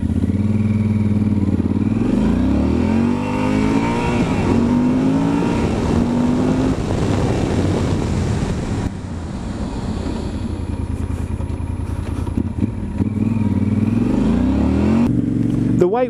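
Motorcycle engine with pistons firing alternately or one just after the other, a heavy 260-kilo bike, running steadily and loud with rising and falling revs, a throaty low rumble throughout with a brief drop in the middle.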